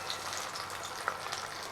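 Two bay leaves go into hot oil left from frying rohu fish heads, setting off a steady moderate sizzle with light crackles and one brief sharp pop partway through.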